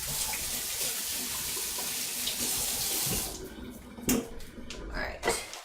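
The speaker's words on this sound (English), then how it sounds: "I gotta wash my hands." Water gushes loudly from a kitchen tap for about three seconds during handwashing, then shuts off, leaving a few quiet clatters and thumps nearby.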